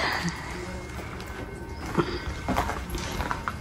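A horse clip-clops at the Sekigahara battlefield in Japan, scattered hoof strikes at moderate distance over open outdoor ambience.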